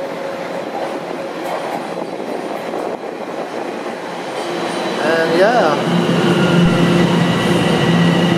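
A new Toronto subway train pulls into the station, a rising rumble of wheels on track building in the second half with brief metallic squealing tones, close and fairly loud, with a short spoken remark near the start.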